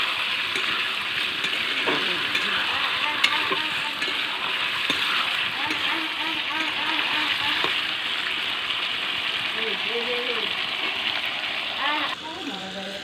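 A steady, hissing sizzle of duck meat frying and being stirred in oil runs throughout, with a person talking over it.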